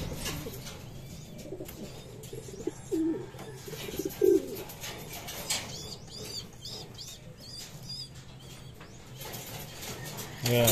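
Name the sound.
racing pigeon cooing on landing board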